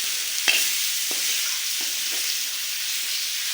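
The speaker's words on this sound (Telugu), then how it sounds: "ఇది చికెన్ ఇట్లా ఎంతసేపు వేయించాలి ఐదు పది నిమిషాల వరకు వేస్తుంది" Chicken frying in a pan for pepper chicken, an even, hissing sizzle close by, with a few sharp clicks of a spoon against the pan early on and no voices.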